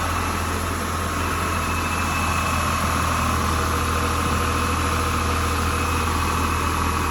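A Rover SD1 2600S engine idles with a steady, even hum and low rumble, close by and unchanging throughout, with no voices.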